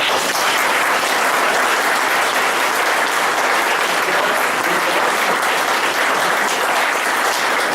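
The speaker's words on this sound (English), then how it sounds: "Anybody against the gravel pit? Give me applause." A crowd at a residents' meeting opposing a proposed gravel pit claps loudly and steadily, a dense, sustained wash of applause from many hands with no voices over it.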